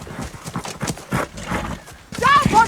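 Horse hooves clip-clop in a Game of Thrones battle scene, with a horse neighing, sword-fight clatter and excited voices talking over the action.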